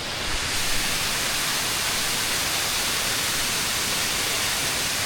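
Small waterfall near Tews Falls in Hamilton, heard from a rickety footbridge: a steady, loud broadband rush of falling water that holds constant for the whole stretch with no voices over it.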